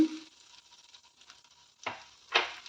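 Fresh grated coconut and carrot frying in a pan, with a soft sizzle and two louder stirring scrapes near the end.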